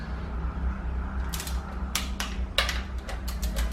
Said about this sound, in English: you want to go to and fro between the bolts until they both torque without moving